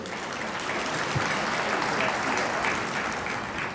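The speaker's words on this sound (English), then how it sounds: "I'd like you to give yourselves a round of applause" Conference audience applauding steadily throughout, dense even clapping from a large crowd in a hall at a statewide municipal league annual conference, sustained without pause.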